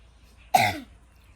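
One short, harsh cough or throat clear, close and loud, in an otherwise quiet room.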